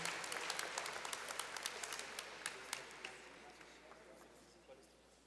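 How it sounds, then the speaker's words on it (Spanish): A church congregation applauds at a Spanish-language evangelical service, a steady patter of many hands clapping that gradually thins and fades over several seconds, with a low hum underneath. "Pues un aplauso para ellos."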